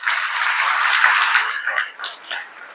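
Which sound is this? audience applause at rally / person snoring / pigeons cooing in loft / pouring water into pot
audience applause at rally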